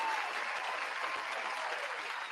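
Applause of many hands clapping in a dense, even wash, sustained and moderately loud throughout.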